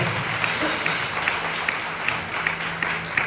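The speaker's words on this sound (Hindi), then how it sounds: "आपके दास के लिए एक बार ताली बजाएगा" An audience in a church gives a round of applause, a steady wash of clapping with a few sharper claps standing out, and a voice faintly beneath it.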